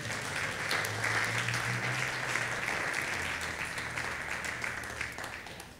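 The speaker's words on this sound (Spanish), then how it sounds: "¿Cuánto le dan un aplauso al Señor?" Loud, sustained applause from a congregation during a Sunday church service, dense clapping holding steady for several seconds before easing slightly at the end, with no speech over it.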